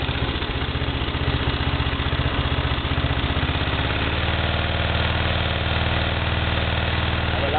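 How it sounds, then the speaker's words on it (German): A Briggs & Stratton 11 HP engine with a carburetor problem runs steadily nearby, a loud continuous chugging drone that shifts slightly partway through, with faint speech underneath. "das ist ein wunderbarer Motor"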